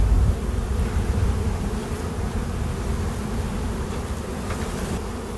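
A honeybee colony, opened for a hive inspection, fills the air with a dense, continuous buzz that stays loud and close throughout.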